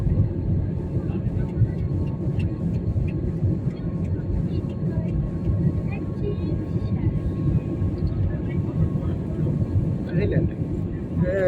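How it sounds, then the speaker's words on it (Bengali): An airliner on a domestic flight rolls down the runway just after landing, a continuous loud low rumble of engines and wheels heard from inside the cabin, with faint voices now and then. "খুব সুন্দর ভাবে ল্যান্ড করলো।"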